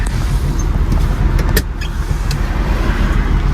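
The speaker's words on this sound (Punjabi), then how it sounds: "ਚਲੋ ਸਟਾਰਟ ਕਰੋ ਗੱਡੀ" A driving-school car's engine runs at a steady, loud hum right inside the cabin, with a brief click partway through and no voices.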